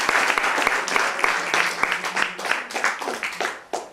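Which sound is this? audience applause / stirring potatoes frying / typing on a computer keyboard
audience applause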